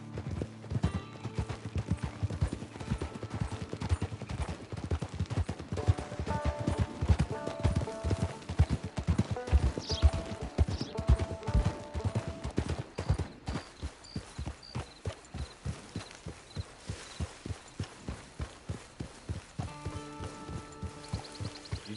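A horse's hooves clip-clop at a steady walking rhythm in the Western video game Red Dead Online, close and clear over soft background music, slowing to sparser, evenly spaced steps toward the end.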